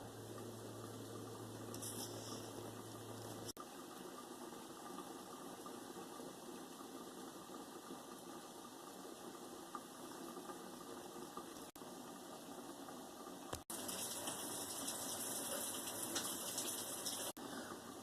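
Water boils in a covered pot of corn on the cob, making a steady, dense hiss and bubbling that runs throughout with no voices, joined by a brighter rush of steam near the end.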